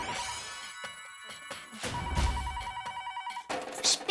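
A telephone bell rings indoors in a Taarak Mehta Ka Ooltah Chashmah household scene, its loud, continuous trilling ring carrying on for several seconds among other room sounds.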